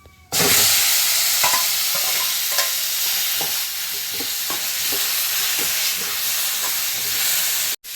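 Boiled raw mango pieces tip into hot frying masala, setting off a loud, steady sizzle and hiss that runs unbroken, broken only by a few soft stirring knocks, with no talk.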